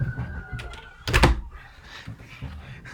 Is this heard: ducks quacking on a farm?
no